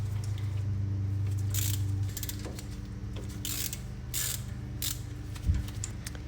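A ratchet wrench clicks in short, quiet bursts while loosening 14 mm brake caliper bolts during a brake pad change, with faint metallic knocks between turns.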